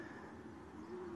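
Breeding hen pigeons coo softly in a loft while being fed, a low, steady cooing hum that sits close and faint, with no talk.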